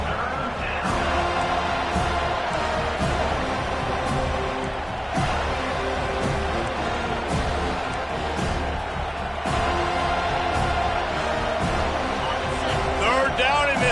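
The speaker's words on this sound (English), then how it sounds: "this crowd is tearing the lid off this place" A dense stadium crowd roars continuously in a football video game on PS5 during a third-down play, a steady loud wash of noise with play-by-play commentary talking over it.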